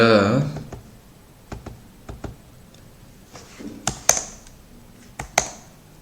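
Keys tap on a computer keyboard as a password is entered, sparse separate clicks with a couple of sharper strikes, close and fairly quiet, after a brief voice at the start.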